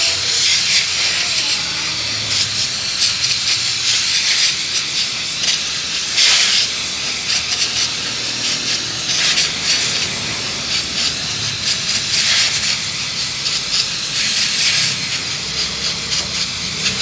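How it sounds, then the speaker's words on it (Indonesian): Compressed air blasted onto a Toyota Avanza's air filter, a steady, loud, close hiss that surges in stronger bursts every few seconds, with no talking. "Lebih bagusnya kita semprot itu dari arah dalam atau atas, semprot dalam-dalamnya sekalian."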